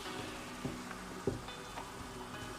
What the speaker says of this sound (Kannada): ಕಡಲೆ ಹಿಟ್ಟನ್ನು ಮಸಾಲ ಒಟ್ಟಿಗೆ ಫ್ರೈ ಮಾಡ್ಕೋಬೇಕು